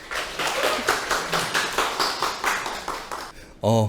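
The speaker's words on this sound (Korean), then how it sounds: "박수로 맞이해 주시길 바라겠습니다" An audience claps steadily to welcome the principal of a school to the stage, a dense patter of many hands that ends abruptly as a voice begins speaking.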